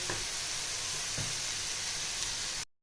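Ground spices (cumin, coriander, chili, turmeric, Kashmiri chili) being stir-fried in a pan for a Bengali raw-banana kofta curry, a steady close hiss of frying with a few faint stirring knocks, no talking.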